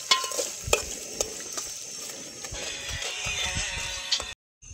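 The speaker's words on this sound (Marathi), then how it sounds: "मस्त असा कांदा शिजतोय" Onion sizzles and fries in a pan at a night campsite by Vaitarana Dam, a steady close crackle broken by sharp clinks of stirring, ending in a brief silence.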